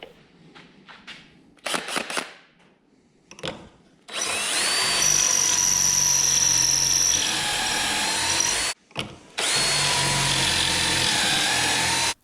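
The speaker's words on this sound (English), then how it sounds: "Now I'll put 2 pocket holes on one side of one of these boards." Power drill boring pocket holes through a 1x2 board held in a pocket hole jig. Scattered knocks and handling sounds come first, then a loud sustained drilling whine that stops briefly once and starts again.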